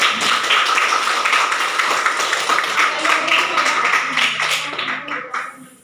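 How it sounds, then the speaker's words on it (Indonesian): A class bursts into steady clapping, many hands together at close range and fairly loud, holding for several seconds before thinning out and fading at the end. "Mari tepuk tangan kita semua."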